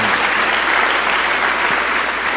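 A church congregation applauds steadily in a dense, continuous wash of clapping from start to finish, with no voices on top.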